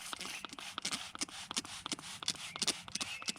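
Short bursts of cleaner spray hit a GSXR motorcycle air filter up close, a quick run of hissing puffs with a faint rustle between them.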